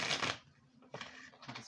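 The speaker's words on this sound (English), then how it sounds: "let me just get a quick shuffle on some of these cards" A deck of tarot cards is shuffled in two short riffling bursts, one at the start and another near the end, separated by a quieter pause with faint handling.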